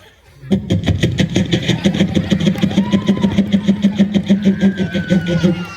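At a school program, a mimic imitates a Royal Enfield Bullet motorcycle engine, a steady rapid putt-putt thumping that starts abruptly and runs loud and even throughout.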